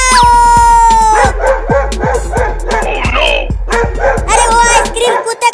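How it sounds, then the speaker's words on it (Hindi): A cartoon dog barks repeatedly in a steady rhythm, loud and close, layered over constant background music and cartoon voices talking excitedly. "देख भौंक रहा है।"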